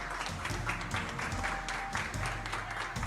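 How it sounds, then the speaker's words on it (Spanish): Applause from a gathered hospital crowd as a recovered patient leaves, dense continuous clapping that stays loud and even throughout. "Cita dejó el hospital en medio de los aplausos"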